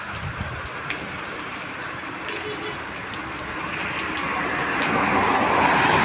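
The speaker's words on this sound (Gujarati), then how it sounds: "જેતપુરમાં વરસાદ ચાલુ થઈ ગયો" Steady heavy rain in Jetpur hisses and patters throughout, growing louder and denser toward the end, with faint voices in the background.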